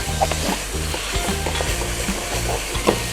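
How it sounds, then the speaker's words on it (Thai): Meat sizzles and is stirred in a hot pan while cooking jungle curry with chicken and raw banana, with a steady frying hiss and repeated scraping strokes of the spatula at a close, even rhythm. "ใส่เนื้อสัตว์ลงไปเลยนะคะ ใส่ลงไปเลยค่ะ ผัดค่ะ เอาให้แห้งเลยนะคะ"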